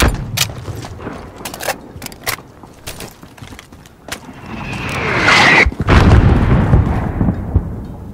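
Enemy gunfire and explosions in Call of Duty: Modern Warfare on PS4, along a desert highway: scattered sharp shots crack in irregular bursts, then a loud booming blast rises and rolls on as a heavy rumble.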